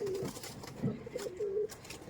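Teddy pigeons, a high-flying breed, coo near at hand in two or three soft, low, drawn-out rolls with brief gaps between.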